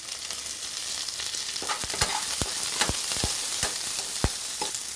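Green chillies and carrots fry with browned onions for cashew upma, producing a constant hissing sizzle punctuated by sharp, regular spatula clicks against the pan.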